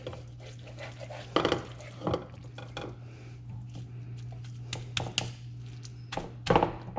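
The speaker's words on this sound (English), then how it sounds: "I'm just pressing down with my spoon." A spoon pressing hot meat pie filling down into a pie crust in a pan, with irregular close scrapes, soft thunks and taps over a low steady hum.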